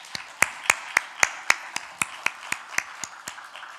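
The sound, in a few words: church congregation applauding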